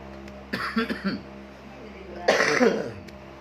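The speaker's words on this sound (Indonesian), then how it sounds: "Batuk gitu." Two bursts of coughing, a short rough cluster followed by a louder one, close up in an otherwise quiet room.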